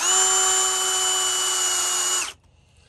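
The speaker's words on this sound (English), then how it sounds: "See, so you got to pre-drill there." A power drill runs steadily for roughly two seconds, pre-drilling a hole for a storm door installation, giving a close, loud, even whine that cuts off sharply, followed by near silence.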